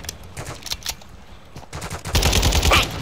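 Gunfire in Call of Duty: Modern Warfare II DMZ mode: a few scattered single shots early on, then a louder, denser burst of rapid shots near the end, with no talk.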